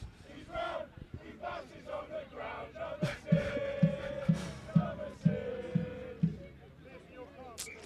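Rowdy crowd at a university rugby union match in Birmingham, chanting in a steady rhythmic beat with repeated loud shouted pulses rising over a constant roar of voices.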